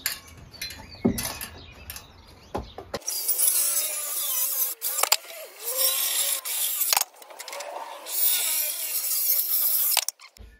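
A power tool cuts wood during roof preparation work, a loud buzzing bite that starts after a few seconds of scattered knocks and handling, then runs in long strained bursts with brief pauses, close by.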